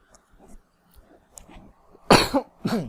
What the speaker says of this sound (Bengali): একটু বেশি জোরে কথা বললেই গলায় কাশি উঠছে